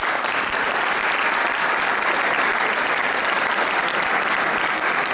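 Warm applause from an audience fills the room, a dense, even patter of clapping held steady at moderate volume from start to finish, with no voices standing out.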